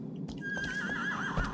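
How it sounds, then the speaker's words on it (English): Horse in the video game Shadow of the Colossus gives a clear, wavering whinny alongside the clip-clop of its hooves, heard close with no talk over it. "Jump on the horse, get on the horse, get on the horse!"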